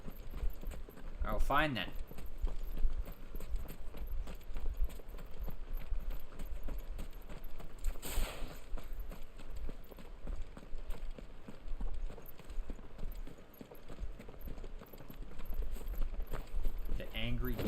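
Horse hooves clip-clop at a steady walking pace while riding a mount in the video game Final Fantasy XVI. A voice talks over the hoofbeats, with a few brief jingling accents.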